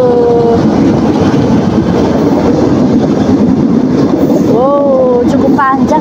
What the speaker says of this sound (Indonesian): kereta api yang baru saja melintas di depan saya adalah kereta api listrik atau KRL